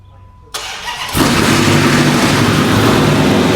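Hellcat Magnum engine cranking with a starter whir, then catching and roaring into a loud, rough, sustained idle, close to the listener.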